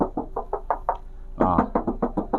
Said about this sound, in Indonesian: dengeran nggak bos suara kalengnya bos?